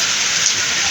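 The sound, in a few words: rain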